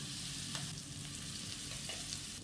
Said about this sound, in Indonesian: Kita tumis bumbu yang udah kita haluskan tadi ya,